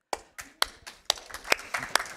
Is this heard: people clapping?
yes